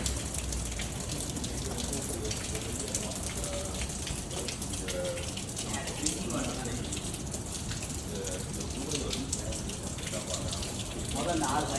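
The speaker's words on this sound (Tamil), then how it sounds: "இந்த தண்ணி விழுந்துட்டே இருக்கு பாரு" Water pours steadily at a Chinese temple in Singapore, a continuous splashing patter like heavy rain on a hard surface, even and close throughout with no break.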